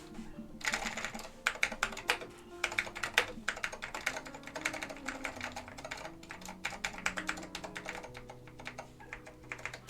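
Typing on a Northgate Omnikey Ultra-T keyboard with early tactile Alps SKCM Cream switches, a dense run of crisp close-up keystrokes in irregular bursts and brief pauses, heard alone without talk.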